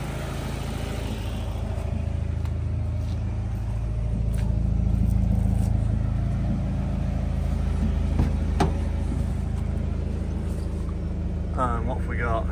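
A 90s Honda car engine runs rough and rich with a steady low rumble, blowing and popping with occasional backfires, while a person talks over it.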